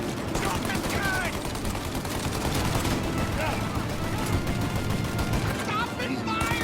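Intense gunfire from the video game Mafia during a deal gone wrong shootout: rapid overlapping shots and bursts fill the whole stretch, loud and continuous, with raised voices in the mix.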